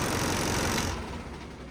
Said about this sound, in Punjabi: ਹੁਣ ਅਸੀਂ ਉਧਰੋਂ ਤਾਰ ਲਾਵਾਂਗੇ ਤੇ ਆਹ ਬੰਦ ਹੋ ਜੂ ਟਰੈਕਟਰ